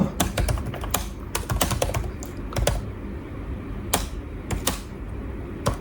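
Fingers tap quickly on a computer keyboard while code is written, making a close, crisp run of clicks in uneven bursts with brief pauses between them.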